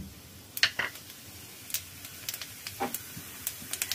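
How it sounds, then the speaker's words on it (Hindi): Cumin seeds crackle and pop in hot oil, scattered sharp snaps over a faint sizzle, close and fairly quiet. "जीरा को चटकने देंगे"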